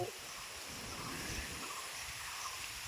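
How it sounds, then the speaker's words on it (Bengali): Soft, steady patter of light rain with a gusty wind rushing over it, continuous and fairly quiet throughout. "আর ঝিরি ঝিরি বৃষ্টিও পড়ছে।"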